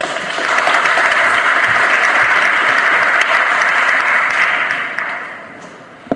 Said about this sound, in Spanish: a quien le brindamos un fuerte aplauso.